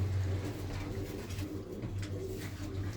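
Racing pigeons in a loft with perches, soft low repeated cooing from several birds at close range, quiet and steady with no talking.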